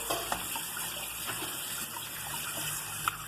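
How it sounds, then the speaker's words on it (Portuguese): Tap water runs in a steady hiss over freshly cooked homemade beet pasta, a continuous soft gush with a couple of faint clinks, fairly quiet and without talk. "Passa uma aguinha nele."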